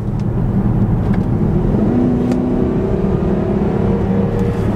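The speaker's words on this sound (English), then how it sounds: "Let's give it one more hit on the gas." A Mercedes-Benz GL450 SUV accelerates hard on a rough, old road, its engine a loud, steady low roar with a whirring undertone, heard from inside the cabin with no talk.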